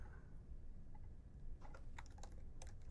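Typing a git command on a computer keyboard in a terminal, a soft quick run of scattered key clicks, faint and close, no talking.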